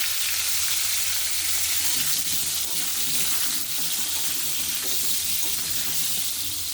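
Potatoes, pre-boiled with salt and turmeric, fry in hot oil left over from frying young jackfruit, giving a steady, close, continuous sizzle throughout with no talking.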